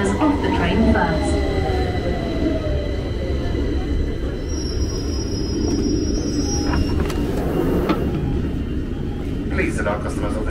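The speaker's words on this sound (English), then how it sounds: "Please stand behind the yellow line as the train approaches." London Underground train pulling into a station platform, a steady loud rumble and rail noise with brief high squeals from the wheels and brakes, while a public-address voice announces over it.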